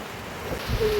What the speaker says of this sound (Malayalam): അപ്പോൾ ഇതാണ് നമ്മുടെ പ്രാവ്